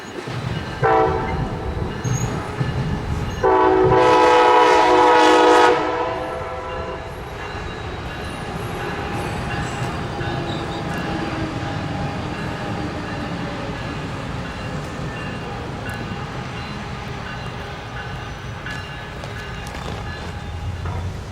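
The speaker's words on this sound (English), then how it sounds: "Over on track 1, P873 slows into its final station stop." A MARC commuter passenger train slowing into a station on track 1, opening with a loud horn blast, then a long rumble of wheels and cars rolling on the rails with a faint squeal, fairly close and steady.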